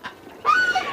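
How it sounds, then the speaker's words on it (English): A 40-year-old parrot at a rescue haven for abandoned birds squawks loudly and close in a sustained harsh call that starts partway through, after a faint earlier chirp. "These 40-year-old parrots outlived their owners."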